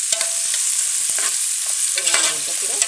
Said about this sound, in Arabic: وهنقلب بقى بالمنظر ده لغايه ما تتحمر شويه